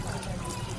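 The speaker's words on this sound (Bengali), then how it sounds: "একটু হাতে জল দে" Water poured over hands in a steady, close pouring and trickling stream with broad splashy noise, lasting under a second, with no speech over it.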